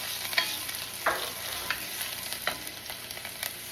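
Chopped onion for lemon garlic rice sizzling and frying in a pan while a spoon scrapes and stirs it, giving a steady hiss broken by repeated close scraping strokes.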